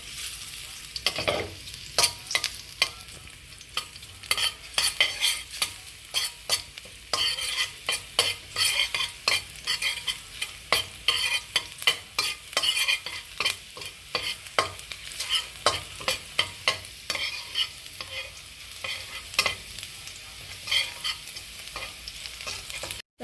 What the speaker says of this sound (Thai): เราก็จะเจียวกระเทียมอีกด้วยนะคะ